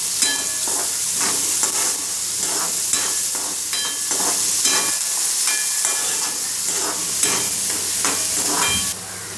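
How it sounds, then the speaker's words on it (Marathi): Chopped garlic and onion sizzle and hiss in hot oil for brinjal and potato bhaji, with repeated stirring scrapes in an uneven rhythm and a loud, close, steady fry throughout. "लसूण आणि कांदा ना तेलात चांगला परतून घ्यायचा।"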